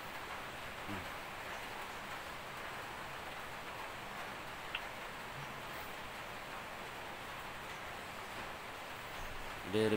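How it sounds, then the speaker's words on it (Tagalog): Heavy rain falls steadily during a thunderstorm as a constant, fairly faint broadband hiss, like rain drumming on surfaces. There is no distinct thunder, and a brief clatter comes at the very end. "Kung bagyo o thunderstorm lang yan. Pero kagabi pa ulan na ulan eh."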